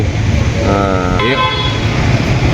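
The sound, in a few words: car horn honking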